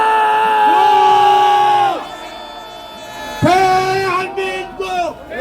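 A crowd at a rally outside the Seoul Central District Court roars in a long cheer, fades, then bursts into a second loud whooping shout of voices together.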